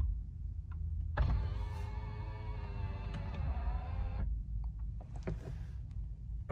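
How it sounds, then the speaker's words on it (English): Power-folding tow mirrors on a 2015 Ram 6.7 Cummins Laramie Mega Cab folding in: a steady whirring electric motor hum lasting about three seconds, close and fairly quiet, followed by a few soft clicks, no talking. "These mirrors, of course, fold out as well for the tow mirror. And I'll just show you with the fold-in button here."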